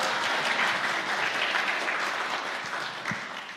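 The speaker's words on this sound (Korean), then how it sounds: "박수로 환영해 드리겠습니다." A church congregation applauds to welcome a pastor at a Sunday afternoon worship service, a steady wash of clapping heard from a moderate distance that slowly fades toward the end.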